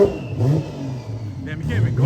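A car engine with a turbo revs and whooshes at a Miami cars and coffee meet, mid-level and somewhat distant, rising and falling in pitch beneath people chatting nearby.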